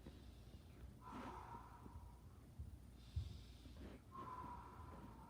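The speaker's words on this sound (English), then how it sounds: "In through your nose, out through your mouth." During a yoga session, a person breathes in audibly through the nose and out through the mouth in two slow, close cycles, each a soft airy rush.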